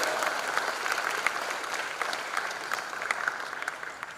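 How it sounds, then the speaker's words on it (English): An audience at a college freshers' induction programme gives sustained applause, dense clapping from a crowd that holds steady throughout. "Let's give a big applause to our Vice"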